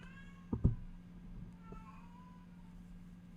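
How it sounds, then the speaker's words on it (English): A cat yowls loudly outdoors in two sharp, close bursts, then calls again more faintly, with a quiet hum underneath and no talking. "This cat's losing her damn mind out there."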